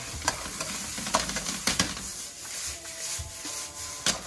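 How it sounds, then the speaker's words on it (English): Celery tossed into a hot wok for a home-style minced beef stir-fry gives a bright, close sizzle, with clattering scrapes of the spatula in short bursts and no one talking. "Then we're going to add our celery."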